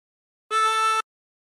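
Single drawn note on a 24-hole tremolo harmonica, breathed in through hole 6, a steady reedy tone about half a second long starting and stopping cleanly amid silence, close and moderately soft.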